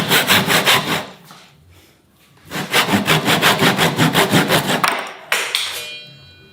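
A hand saw cuts through wood for a Japanese joint, with rapid rhythmic rasping strokes in two bursts separated by a short pause, close and crisp with no talk.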